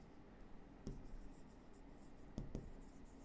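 Math notation being handwritten in a quiet room: faint, scratchy pen or chalk strokes with a couple of soft taps near the one-second and two-and-a-half-second marks, and no talking.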